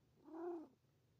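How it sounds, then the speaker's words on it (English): A domestic cat lets out a single short, quiet chirping meow-like call, close by, with a faint hum underneath. "He's an interesting cat with sound effects."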